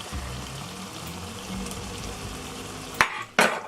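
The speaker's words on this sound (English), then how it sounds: "I'm gonna put some shrimps because you guys know I love shrimps" Shrimps added to cassava and beans cooking in a pot give a low steady simmer and bubbling, followed near the end by a couple of abrupt clattering stirs or drops, close and moderate in volume.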